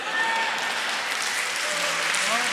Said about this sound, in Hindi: आप तालियां बजा बजा के थक चुके हैं